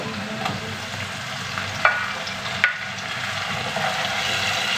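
Chopped tomatoes hit frying garlic in a pan, giving a steady close sizzle with a few sharp clinks and scrapes of a spoon stirring, with no talking.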